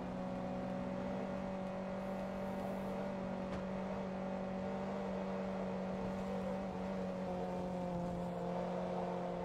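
Steady, unchanging idle of a Mazda RX-7 rotary engine in the Forza Motorsport 2 racing game, a smooth harmonic drone at constant pitch and level throughout, with no voices.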